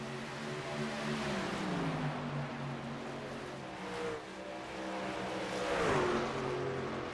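Racing truck engines roaring at Dover in an iRacing sim race, a steady droning blend of several motors with shifting, rising pitch as the pack runs together, no talk.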